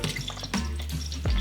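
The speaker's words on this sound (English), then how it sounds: "I'm just taking a little colander with a handle to move that kale around in the water for a moment." Kale leaves are stirred with a handled colander in a pot of salted boiling water for blanching. Close, continuous sloshing and bubbling comes in a few swirling surges, with no one talking.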